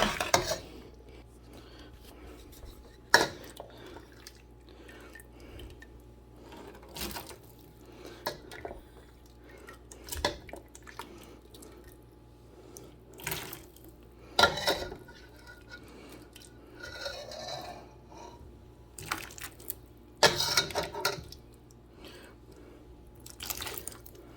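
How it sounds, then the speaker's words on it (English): A spoon stirs a boiling pot of noodle and carrot soup in a home kitchen, making scattered soft squishes, drips and occasional clinks against the pot over a quiet bubbling background. "this has been boiling away. I'm gonna stir it all up"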